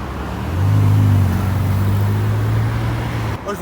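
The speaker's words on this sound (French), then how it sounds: "Petite Ferrari F8 qui va passer." A Ferrari F8 sports car drives past on a road near Geneva, its engine note swelling in and holding as a steady low drone before cutting away near the end.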